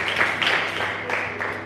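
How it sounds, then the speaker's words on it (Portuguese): Church congregation applauding, a dense wash of clapping with a few louder surges over about two seconds, no clear speech on top. "Aplauda o Senhor."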